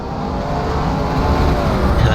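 Stock cars in the NASCAR Canadian Tour race at Toronto roar past at full throttle, a loud, dense and continuous engine drone with crowd-level background noise, nearby and unbroken throughout.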